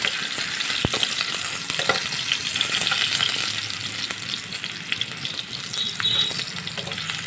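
Green banana pieces fry in oil in a wok, sizzling and crackling continuously with bright hiss and scattered pops, close and steady, with a sharp clatter near the start and no talk.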